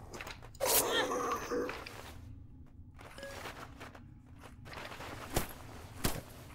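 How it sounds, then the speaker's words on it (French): Footsteps in the survival horror game Night of the Dead, faint scattered steps through a dark school with a couple of sharper impacts later, spoken commentary over the top. "Les bruits de pas qu'on entend"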